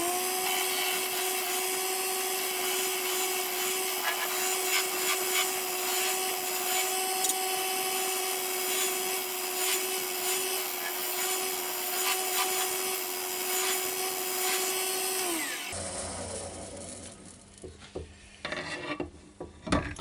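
A woodturning tool scrapes out the inside of a drilled yew piece spinning on a lathe, a steady whirring hum with rough cutting noise for about fifteen seconds before the lathe winds down, followed by scattered handling knocks.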